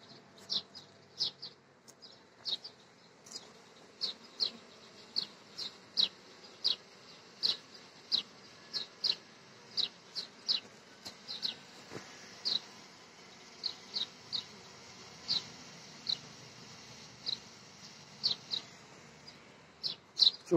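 Honey bees at shaded hives in hot weather, with a faint steady hum beneath repeated sharp chirping calls spaced at roughly regular intervals throughout, quiet and alone.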